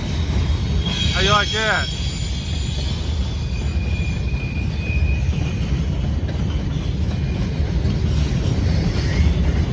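Two mixed Norfolk Southern freight trains rolling on CSX track at a wye, with a steady heavy rumble of railcars, a brief wavering squeal early on, and someone speaking once.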